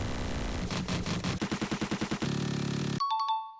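Rapid automatic gunfire from new weapons in the video game Destiny 2, a fast loud burst of shots that stops abruptly and gives way to short chiming tones.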